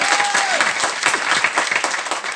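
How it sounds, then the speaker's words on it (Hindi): Audience at a company gathering applauding, a loud, dense burst of many hands clapping rapidly and steadily, close and continuous. "जोरदार तालियां एक बार"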